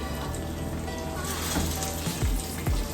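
Fish fries in a pan at home during a family dinner, giving a steady close crackle and hiss with a few louder pops and spatters throughout.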